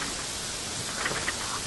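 Rain falls steadily, a dense even hiss of drops with a few slightly louder patters partway through, no voices.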